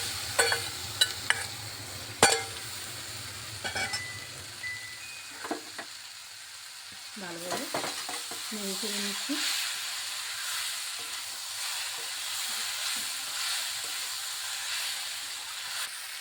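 Red-skinned potatoes are added to a kadai of fried, sticking cumin paste and stirred. Sharp scrapes and clanks come first, then a low steady sizzle, with a voice speaking briefly partway through.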